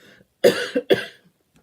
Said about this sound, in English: Get that little cough in there.